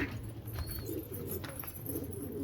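Pigeons in a village pigeon house, soft low cooing murmurs repeating over a steady background hiss, faint and close.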